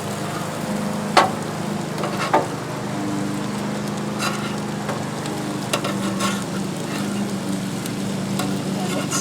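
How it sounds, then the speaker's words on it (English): Corn tortillas sizzling on a Blackstone griddle, a steady low hiss and hum with a few sharp scraping clicks from a spatula, close and continuous. "Got all the little tortillas on here, and this is a nice way to brown them up."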